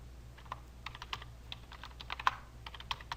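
Fingers typing a word on a computer keyboard into a spreadsheet cell, a quick irregular run of crisp close key clicks over a low hum, with no voices.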